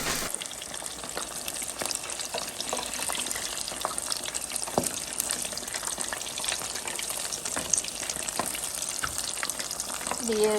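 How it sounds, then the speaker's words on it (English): Korean corn dogs bubbling and crackling in hot frying oil, a steady busy sizzle with small pops throughout, fairly close and moderately loud. "it's a little scary putting it in the oil"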